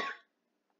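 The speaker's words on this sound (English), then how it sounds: "I coughed." A single sharp cough sounds close and loud at the start, then quickly fades into near silence, ending with a faint click.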